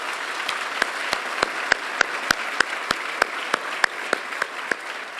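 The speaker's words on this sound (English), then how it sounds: "we owe these dedicated people a very heavy round of applause, please" Audience applause for hospital donors at a children's hospital event: steady, dense clapping with a series of sharp, louder individual claps standing out at regular intervals.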